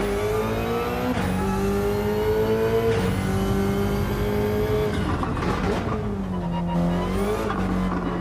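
Subaru BRZ GT300 race car engine in Gran Turismo 7, loud sustained revving that climbs through gears with shifts and dips, plus a brief tire squeal, with no talking over it.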